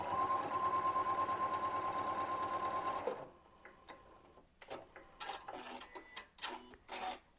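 A sewing machine stitches foundation paper piecing for a square-in-a-square quilt block, running loud and steady for about three seconds before stopping, followed by quieter handling noises and soft rustling of fabric and paper.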